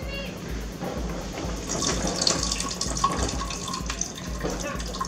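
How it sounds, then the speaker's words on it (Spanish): Tap water runs steadily into a container holding freshly extracted kiwano (horned melon) seeds, a continuous near pour with faint splashing throughout. "Ya que tenemos estas semillas, le vamos a ir agregando agua."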